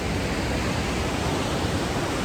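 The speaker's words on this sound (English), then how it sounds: "Oh, look at this waterfall though." A waterfall in a rocky canyon gives a constant, dense rush of falling water, even and unbroken from start to finish, with no voices.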